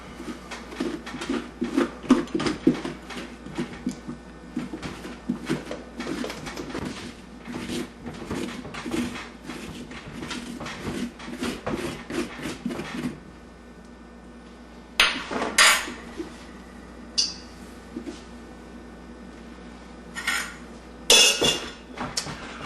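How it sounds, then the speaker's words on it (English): A spoon or scoop scraping out the inside of a pumpkin for a jack-o'-lantern, with rapid knocking and scraping strokes in quick bursts, then a quieter pause broken by a few sharp clacks near the end. "all we have to do is scrape all this out inside here."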